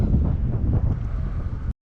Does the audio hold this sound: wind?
yes